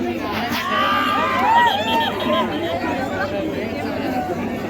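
A large crowd at a Dahi Handi festival in Satara keeps up loud chatter, shouts and scattered cheering, with overlapping voices forming a constant close babble throughout.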